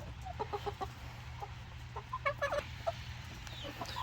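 Several hens cluck in short, scattered bursts inside a deep-litter coop, moderately close, over a low steady background rumble.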